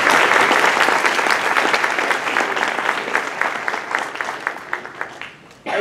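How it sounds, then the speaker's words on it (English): Conference audience at the Cortland Recreation Conference applauding students, dense clapping that thins into scattered individual claps before fading near the end. "please give those students a round of applause"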